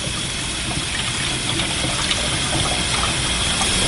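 Tap water gushes steadily over shredded potatoes being rinsed in a kitchen, a loud, continuous close-up rush of running water with no pauses.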